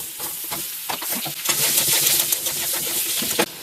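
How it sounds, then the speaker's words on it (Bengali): Pieces of potato frying in the same oil used for fried pointed gourd, giving a steady close sizzle with scattered crackles and a brief stir or clatter near the end, no talking. "এবারে একই তেলে কয়েক টুকরো আলুও ভেজে নেব।"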